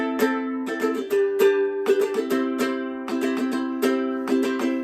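A ukulele plays a song's verse chords in a lively strummed pattern, with a steady run of bright chord strokes and sustained ringing strings.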